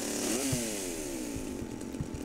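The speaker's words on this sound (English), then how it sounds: "Okay, chainsaw." A chainsaw in the GTA Vice City video game revs up with a rising buzzing whine, then settles into a steady, sputtering idle with rhythmic low putters, moderately loud and with no talking.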